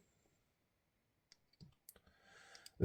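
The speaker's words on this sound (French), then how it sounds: "Donc un bouton action brève. On clique comme cela." A few small, sharp clicks from pressing the button on a Klarus GL4 flashlight, close and quiet against near silence, followed by brief faint handling noise.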